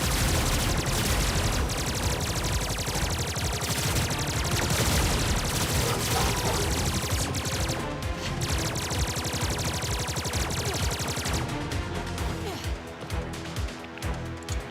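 Gunfire in Terminator 2D: No Fate, with dense, busy shooting and blasts running throughout, mixed with game music and effects, and thinning out toward the end.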